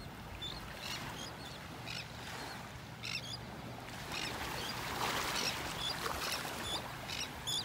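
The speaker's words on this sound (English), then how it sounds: "Listen to all those birds." Birds call on a beach in North Naples, Florida. Scattered high chirps and squeaks come in short bursts over a soft, constant wash of surf and breeze, fairly faint and without speech.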